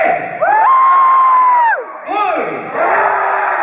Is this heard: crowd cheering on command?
yes